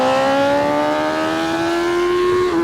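A 2025 BMW S1000RR motorcycle engine braking after the throttle is fully closed from a little over 100, a loud, steady, close engine drone whose pitch holds near constant with a slight shift near the end.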